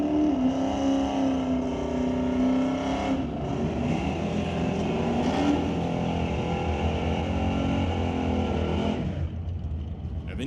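A Firebird race car with a 454 cubic inch Chevy engine at Mission Raceway Park drag racing, a loud sustained roar rising in pitch as it accelerates, then fading, with a commentator's voice over it.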